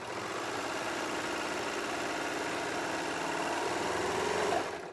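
A serger sewing machine runs continuously, stitching fabric for an infinity scarf, giving a fast, even mechanical whir that stays loud and steady, close by, and stops abruptly at the end.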